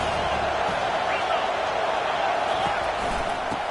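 A stadium crowd in the NCAA 25 college football video game, a constant loud wash of cheering and roaring that stays steady throughout, with a commentator talking over it.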